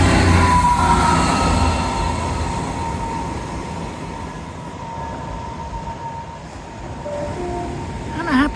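A train rumbles past close by at Teignmouth, a heavy steady roar that slowly fades, with a faint metallic whine near the end.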